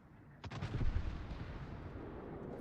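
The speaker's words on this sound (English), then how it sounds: "So it has very high damage torpedoes at short range." Cassard destroyer torpedoes striking a Kremlin battleship at point-blank range in World of Warships, a loud cluster of booming impacts that swell quickly and then trail off into a long rumbling roar.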